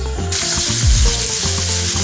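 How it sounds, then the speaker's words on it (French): Button mushrooms sizzling in butter in a pan, a loud, steady frying hiss with a brief stirring scrape partway through. "ce sont les champignons de Paris que je vais faire grésiller dans le beurre"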